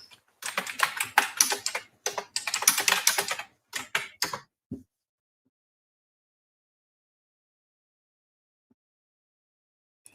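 Rapid keystrokes clatter on a computer keyboard in bursts for about four seconds, close and crisp, then stop and leave near silence.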